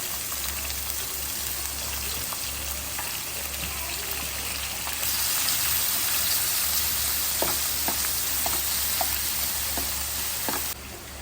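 Ginger and garlic fry in hot coconut oil with mustard seeds and fenugreek for a prawn curry. A steady, fairly loud sizzle with scattered small crackles grows slightly stronger partway through.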